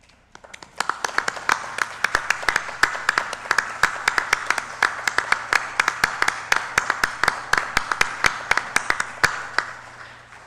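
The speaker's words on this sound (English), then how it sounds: "Stand again so that we can give you guys an applause" Applause from a standing audience honoring volunteers at a tribute event, with sharp, distinct claps ringing out over a steady wash of clapping for about ten seconds.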